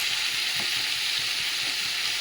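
Dal cooking on the stove, with a steady hiss of frying and a few soft stirring knocks, close and continuous, with no voices.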